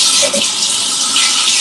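Hands being washed under a running tap, a steady broadband rush of water flowing close by for the whole moment, with a few faint clinks underneath.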